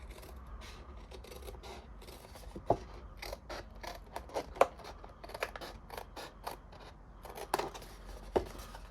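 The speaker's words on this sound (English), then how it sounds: "grab yourself your snips. So cut along your score line to the second score line" Metal snips cut through a scored line in paper card for a fold-flat box card, giving a string of quiet crisp snipping clicks with a few sharper snaps, close up and alone.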